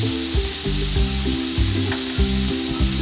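Vegetables with salt, red and black pepper, chili flakes, oregano and tomato ketchup fry in a pan for a pizza pocket filling, giving a constant hissing sizzle under rhythmic background music.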